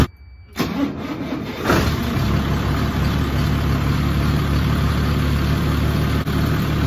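A Ford 8160 tractor engine cranks briefly, then catches and settles into a loud, steady diesel idle that runs on close by, with no voices.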